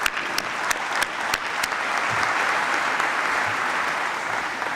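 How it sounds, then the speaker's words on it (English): A crowd at a high school graduation ceremony applauds the graduating class, a broad, steady wash of clapping with a few sharper claps standing out near the start. "Let's give them a round of applause."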